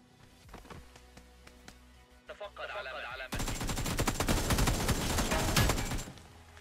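Bursts of automatic gunfire from a firefight in the mobile battle royale game PUBG New State, starting with scattered shots and rising to a loud, dense barrage in the second half.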